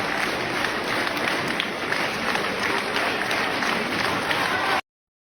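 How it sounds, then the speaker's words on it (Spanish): A large concert audience applauds a performance, a dense, steady wash of clapping held at even volume throughout before cutting off abruptly. "Se lo merece esa lluvia de aplausos y que la gente se ponga de pie en esta parte."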